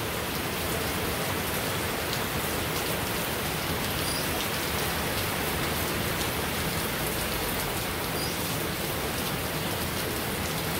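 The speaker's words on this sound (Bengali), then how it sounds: "এই যে বৃষ্টি হইতেই আছে" Steady rain falls outdoors as a constant, dense hiss with no pauses, fairly close and even throughout, with no voices present.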